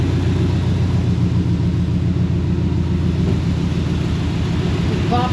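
A car engine fitted with an EFI conversion idles steadily and loudly close by, a dense low rumble with slight irregular popping in the running.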